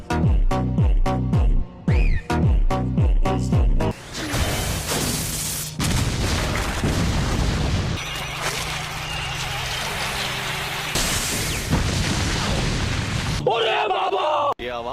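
Loud explosions and roaring blasts from an attack that strikes with both noise and detonation, rumbling booms filling long stretches after a run of sharp rhythmic hits, with a brief voice near the end.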